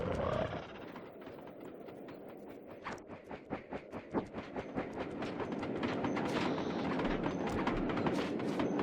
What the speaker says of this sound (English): We'll get the job done, provided I can catch up with that train.